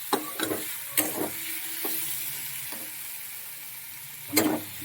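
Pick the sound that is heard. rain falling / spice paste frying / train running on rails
spice paste frying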